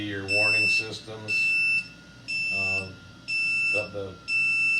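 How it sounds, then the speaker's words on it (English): A powered air-purifying respirator's warning alarm sounds in repeated electronic beeps and buzzing pulses, about five evenly spaced bursts, with a person talking over and between them. "And then the beeping and the vibrating."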